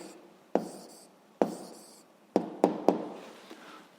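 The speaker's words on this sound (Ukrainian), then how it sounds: "записуємо відповідь. Пишемо відповідь." An answer is written out during a seventh-grade physics self-check exercise on elastic force, heard as a series of crisp, separate taps and scratchy strokes close up, with quiet pauses between them.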